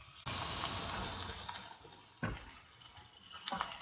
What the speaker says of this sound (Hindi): अब हम इस स्टेज पे अपनी बॉइल्ड पास्ता ऐड करेंगे।